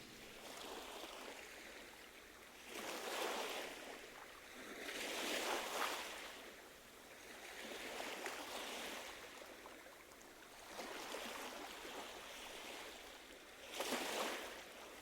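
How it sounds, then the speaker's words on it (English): Ocean waves from the Star Ocean The Second Story R video game wash in and recede in slow repeated swells, each surge of surf rising and falling over a steady watery hiss, with no talk. "Waves?"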